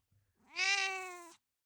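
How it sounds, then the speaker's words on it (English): A house cat gives one clear, close meow lasting about a second, rising and then trailing off in a quiet room. "that's my cat, Raja."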